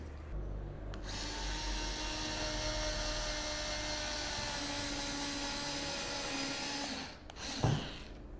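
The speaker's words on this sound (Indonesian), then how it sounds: "Nah, kita gunakan mata bor pagoda seperti ini." A DongCheng cordless drill fitted with a step bit boring through aluminium composite panel with a PVC core: a steady, loud, high motor whine under load for about six seconds, then it winds down with a short clunk.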